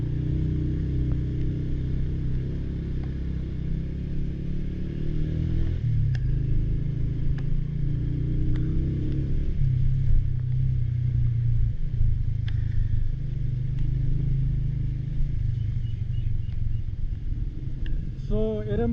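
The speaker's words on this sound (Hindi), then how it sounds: "और इस तरह हमारी बाइक ऊपर चढ़ गई।" Motorbike climbing a steep rough mountain road in Kashmir, engine droning steadily with shifting pitch as it labours uphill, loud and close throughout, with wind and rumble mixed in.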